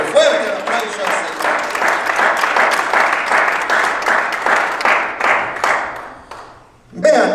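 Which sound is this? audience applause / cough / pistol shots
audience applause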